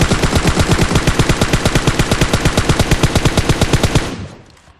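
A video game machine gun fires one loud, rapid, unbroken burst for about four seconds, then trails off into a fading echo.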